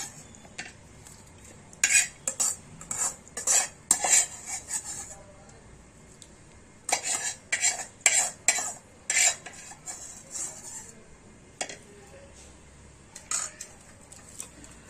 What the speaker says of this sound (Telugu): అవి ఇందులో వేసుకొని కలుపుకోవడమే